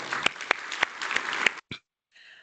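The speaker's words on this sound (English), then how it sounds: "So I think that deserves an applause." Audience applause at a tech presentation on low-code tools, a short burst of clapping that stops abruptly, followed by a brief faint tail.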